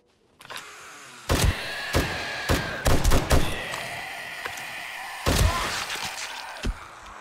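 An M60 machine gun in 7 Days To Die firing several short bursts of heavy, booming shots with ringing tails between them, loud and close.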